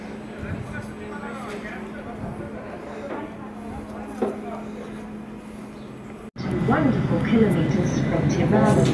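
Steady rumble of a moving train in the Swiss Alps with people talking over it; the noise grows louder and brighter partway through.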